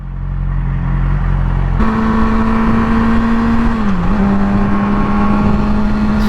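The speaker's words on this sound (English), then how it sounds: "I'm on a motorcycle" A motorcycle engine drones steadily while riding in traffic, loud and close. A sustained tone holds, then dips briefly in pitch before settling again under constant wind and road noise.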